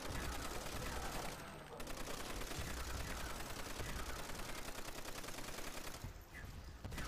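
Browning machine gun firing on the Nacht der Untoten map in Call of Duty Zombies: a loud, sustained stream of rapid gunfire broken by two short pauses, near the start and again close to the end.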